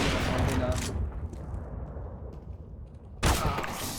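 Gunfire in the video game CS:GO: a loud burst of rapid shots opens, drops to a low rumbling lull, then another sharp volley of fire breaks in near the end.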